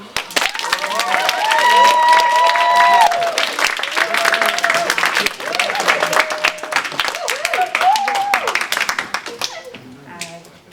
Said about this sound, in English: Please clap Sophie Ingram